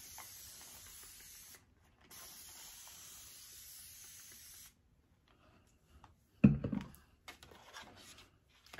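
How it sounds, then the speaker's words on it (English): A handheld spray bottle misting water onto a headband wig's hair, heard as two steady hissing bursts of about one and a half and two and a half seconds, followed by a few louder knocks and handling noises. "Let's go ahead and spray this."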